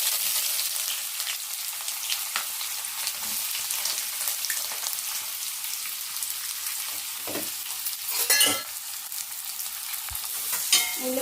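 Onions and green chillies frying in oil in a new pot, with a steady close sizzle throughout and a few louder clanks and scrapes from stirring, no voices.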